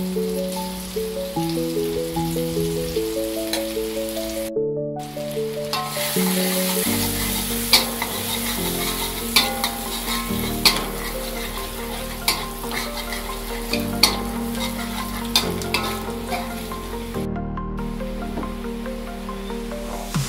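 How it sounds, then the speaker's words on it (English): Garlic and shallots stir-frying in a pan for fried rice, a steady loud sizzle with repeated scraping and stirring clinks throughout, briefly cut out twice. "So stir fry the garlic and the shallots."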